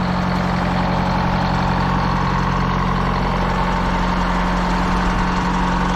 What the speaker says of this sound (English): This thing fired right up. Gotta love these old Detroits.